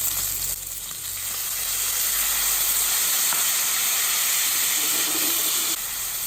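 Butter and corn juice hit a hot steak pan and sizzle loudly, a close, continuous hiss of frying that holds steady for several seconds, with no one speaking.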